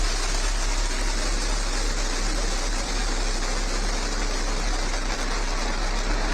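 New Shepard rocket lifting off and clearing its launch tower, a dense, steady roar with deep rumble filling the whole clip at constant loudness, no voices.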